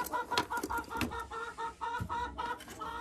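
A laying hen clucks repeatedly in short, rhythmic bursts, close by near the nests, with soft rustling in between.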